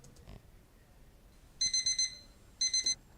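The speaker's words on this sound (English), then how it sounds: "I did have this alarm sound that I downloaded" A downloaded alarm clock tone plays in two bursts of rapid electronic beeps, four pulses then three, fairly loud and clear over a quiet background with no talking.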